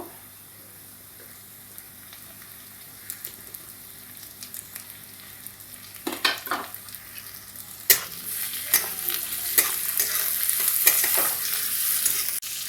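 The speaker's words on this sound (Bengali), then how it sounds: "এবার আমি ছোট সাইজের দুটো টমেটো দিয়ে দেব" Small tomatoes go into a pan of lightly fried onions, bringing a soft, steady sizzle with scraping stirs and clinks that get busier partway through. No one speaks.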